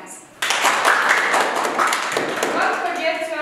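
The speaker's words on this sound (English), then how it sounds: "Okay, clap your hands." A group of students in an English class clap their hands together, a dense, steady burst of clapping that starts abruptly and carries on for about three seconds, fairly close, with voices mixed in.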